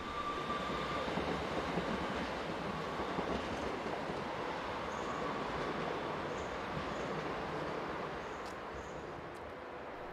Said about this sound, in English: They have purchased brand new Siemens Desiro Class 460 electric multiple units to operate their services